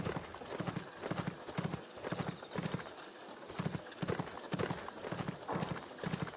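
Horse hooves clip-clop at a steady trotting rhythm in the video game Swordsman, as a horse wagon moves, with a faint whinny, continuous and fairly close throughout.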